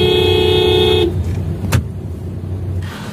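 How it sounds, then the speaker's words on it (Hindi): Road traffic on the route from Mumbai toward Chembur and Panvel, with engines idling and a single sharp car horn honk cutting through the steady vehicle rumble, preceded by a loud tonal hum that stops abruptly. "तो ये था ट्रैफिक में बुरा हाल"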